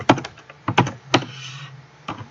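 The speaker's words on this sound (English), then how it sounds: "I'm pressing Alt and Enter for all those pop-ups" Computer keyboard keys pressed while writing Java code: several crisp, close clicks in small bursts of two or three, then a final pair, alone and fairly loud.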